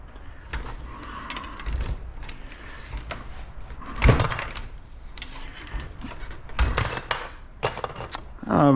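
Scrap copper pieces are tossed into a metal bucket at a scrap metal shop, making a scattered series of sharp clinks and clanks at irregular intervals over low background noise.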